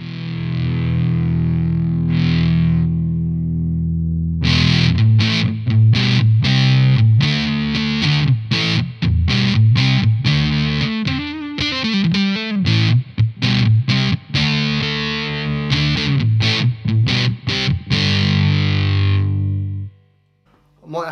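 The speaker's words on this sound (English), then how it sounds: "Let's try putting the fuzz on." Electric guitar through an Orange Fur Coat fuzz pedal, a sustained distorted chord giving way to loud, buzzy, saturated strummed and picked notes with choppy rhythmic stops, played close and continuous for about twenty seconds.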